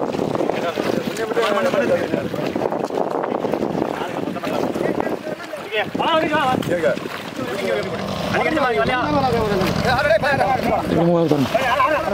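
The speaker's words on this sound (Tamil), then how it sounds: "இன்ஜின் ஸ்டார்ட் பண்ணி ஓடுது. போட் போகுது." A large fishing boat's engine drones steadily at sea with wind buffeting the microphone, and people talk loudly over it throughout.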